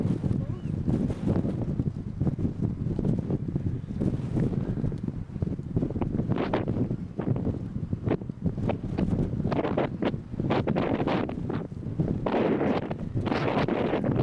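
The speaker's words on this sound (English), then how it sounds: "it's a typical windy end." Strong wind in Orkney buffets the microphone in steady, rumbling gusts, with rustling and faint distant voices underneath.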